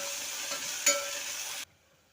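Chopped fenugreek leaves frying in hot tempering oil for menthya bath, a soft, steady sizzle heard up close with one brief stir that stops abruptly; no voices.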